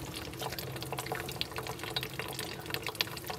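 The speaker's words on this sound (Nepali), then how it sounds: "पानी भरिरहेछ" Water running from a tap, filling a container with a soft continuous splashing and trickle, fairly faint and close.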